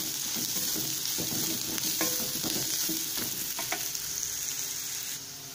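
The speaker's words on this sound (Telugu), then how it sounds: "ఇంకొక జస్ట్ 1 minute ఫ్రై చేసుకుంటే ఆనియన్స్ మనకు ఫ్రై అయిపోతాయి" Onions frying in a pan for a masala egg fry give a steady, close sizzle with stirring scrapes and soft clinks throughout, and no one speaks.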